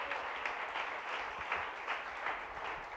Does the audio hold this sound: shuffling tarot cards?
no